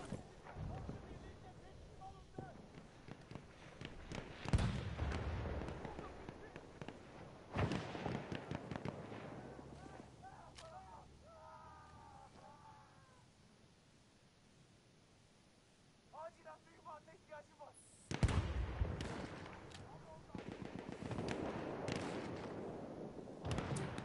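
Artillery strikes in the Battlefield 1 video game land as several heavy, booming explosions in bursts, loud and close, separated by quieter stretches with faint in-game chatter and effects.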